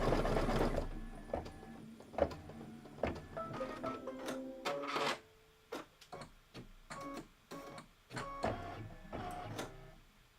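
An embroidery machine stitches an ice cream scoop placement line for a table topper, producing a steady series of sharp rhythmic mechanical clicks and thumps with brief hums between them, close and moderately loud.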